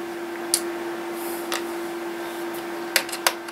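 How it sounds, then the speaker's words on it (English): Screws come out of an Aiwa boombox cassette deck as a screwdriver turns them, giving a few sparse, small ticks and clicks over a faint steady hum, close by and without talking. "I'll take out these five screws."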